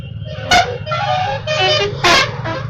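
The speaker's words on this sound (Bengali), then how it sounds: "ফাঁকা ফাঁকা করে হর্ন মারতে মারতে উদ্দেশ্য শেষে চলে যাচ্ছে" Buses honking on the New Digha Bypass road, two sharp horn blasts about a second and a half apart over a continuous rumble of passing traffic and engine noise.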